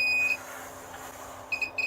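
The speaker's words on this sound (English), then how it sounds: "when I'm coming too close or too far it will beep" Short high electronic beeps from a lathe's electronic limit stop: one at the start, then a quick cluster of three near the end, over a low steady machine hum.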